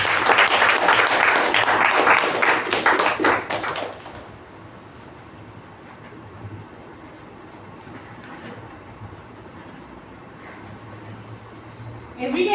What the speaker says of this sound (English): With a huge round of applause, help me in welcoming the Toastmaster of the day